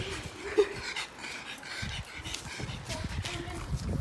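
A pug and another dog play together nearby, with quick panting breaths, scuffling paws and a brief whimper, while people talk in the background.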